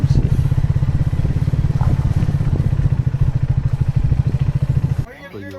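Motorcycle engine held in second gear on a steep mountain-pass descent, a steady loud low rumble with rapid firing pulses for about five seconds before it cuts off and the level drops.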